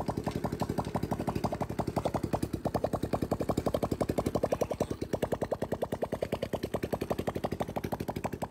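A Honda motorcycle engine, an A655 unit, runs on a test stand with a fast, even train of firing pulses, steady and close throughout with no other sounds.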